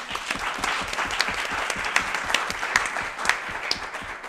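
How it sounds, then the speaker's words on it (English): Indoor audience at a packed evening talk on food and technology gives a sustained round of applause, many hands clapping steadily at moderate volume. "Please give her a round of applause."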